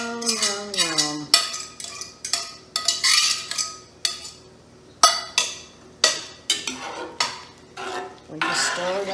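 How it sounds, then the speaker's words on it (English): Utensil scraping and clinking against a pan while stirring venison steaks in gravy, a run of repeated close strokes with faint sizzling underneath and a brief voice at the start. "We just stir that around"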